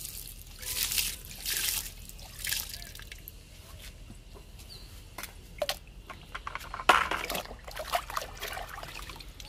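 Liquid fertilizer poured onto a potted fig plant, soft trickling and dripping in irregular bursts close by, fairly quiet with brief splashy pulses and no talking.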